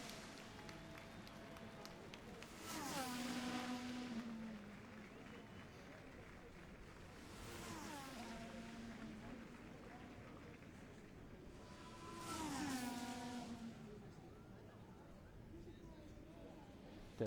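Race cars pulling out one by one onto the track in a racing video game, three engine passes rising and falling at intervals with whining pitch sweeps, moderately close over a steady background.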